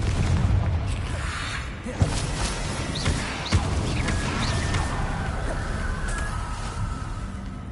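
A Confringo blasting spell going off in the video game Hogwarts Legacy, with a dense rumbling blast bed and a couple of sharper booming hits, loud and continuous.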